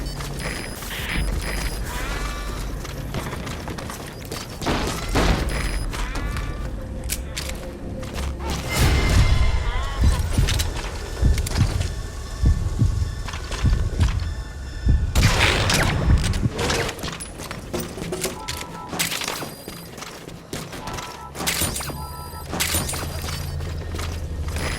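Cover gunfire in the video game Metal Gear Solid V: loud, dense bursts of shots with heavy thuds and mechanical clatter, swelling and easing in waves over about 25 seconds.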